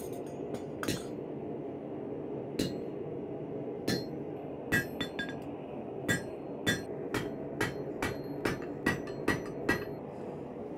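A hammer strikes a drift through hot steel on an anvil, a series of sharp metallic blows spaced irregularly at first and then coming quicker, close and loud over a low background rumble.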